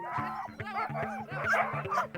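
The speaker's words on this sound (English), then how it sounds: "We're off on a 6-dog-powered sled with one puppy in hot pursuit" A team of six sled dogs with a puppy bark and yip excitedly in Kamchatka, Russia, a busy overlapping chorus of many quick barks, close and steady throughout, with a whine rising among them.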